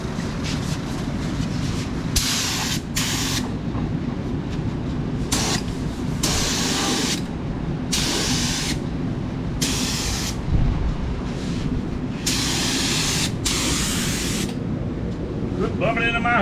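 Spray-can primer being sprayed onto headlight buckets from a Dodge Magnum, heard as a series of close, loud hissing bursts of a second or two each, separated by short gaps.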